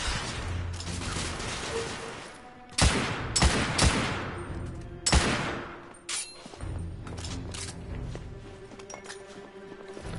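Video game gunfire bursts out in loud, sharp shots and short volleys, with quieter stretches and faint clinks between them, and a few brief voice sounds mixed in.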